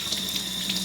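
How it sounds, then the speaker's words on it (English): Cold tap water runs steadily into a kitchen sink over button mushrooms, a constant close splashing rush with no talking. "you can either brush them off or run them under cold water very quickly."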